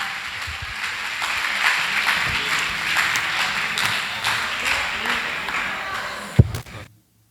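Church congregation clapping steadily through a festive worship breakfast, a dense sustained patter that ends with a sharp knock before cutting to silence.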